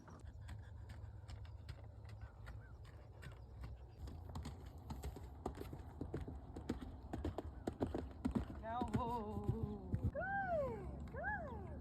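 A horse in a halter and reins walks under a rider, its hooves clopping in a steady, close rhythm, with a few higher squeaky tones late on and no talking.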